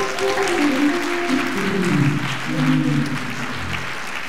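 A church congregation claps together in a sustained burst of applause during a Baptist service in Simpsonville, South Carolina, dense and fairly near, with a few voices faintly mixed in.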